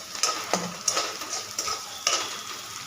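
Ginger garlic paste sautéing in a pan while making shahi paneer masala, with a steady close sizzle broken by repeated scraping strokes and light clinks of a spoon against the pan, and no one talking.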